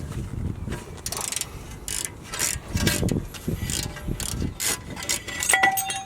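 A breaker bar and ratchet work loose a rear brake bolt on a 2005 Jaguar S-type. Close, loud bursts of ratchet clicking and metallic creaks come in uneven spurts, with no talk.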